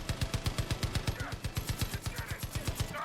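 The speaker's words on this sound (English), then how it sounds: "I'm being shot from behind." Enemy gunfire in the video game Far Cry 5 rattles out as rapid automatic bursts, sharp evenly spaced shots hammering close and loud in a steady machine-gun rhythm for the whole stretch.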